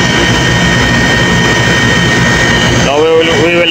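Outdoor air conditioner compressor unit running, a loud steady roar with a constant hum that holds throughout, with a brief voice or rising tonal sounds near the end.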